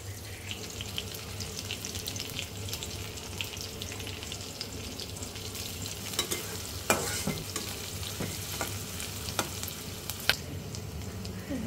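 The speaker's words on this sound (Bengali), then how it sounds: "দিয়ে দিব পরিমাণ মতো কিছু পেঁয়াজ, দিব কয়েক ফালি কাঁচামরিচ" Onions and green chillies frying for a chickpea curry, a soft continuous sizzle with scattered crackles and a few sharper pops later on, fairly quiet and without speech.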